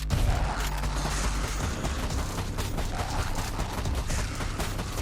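Sustained gunfire from a cooperative twin-stick shooter, Rift Loopers, pouring into a big enemy: a steady, dense stream of rapid shots with muffled impacts and no voices.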